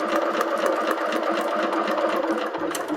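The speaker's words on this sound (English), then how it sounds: "stitch it down and make sure that you're sewing right on that line" A sewing machine stitches fabric along a line for foundation paper piecing, running continuously with a fast, even mechanical chatter close by.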